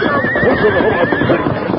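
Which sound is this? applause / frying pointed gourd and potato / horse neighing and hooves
horse neighing and hooves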